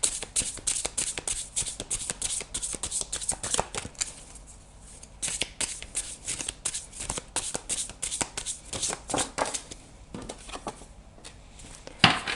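Osho Zen tarot cards are shuffled by hand close up, in quick riffling bursts of crisp card slaps with short pauses between them and no talking.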